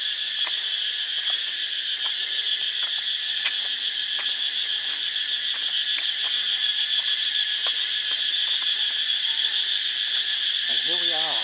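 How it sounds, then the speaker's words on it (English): Steady, dense insect chirping fills the air continuously in Luang Prabang, Laos, loud and unbroken, with faint scattered clicks and a brief low sound at the end. "lots of mosquitoes and insects around, as you can hear the chirping in the background"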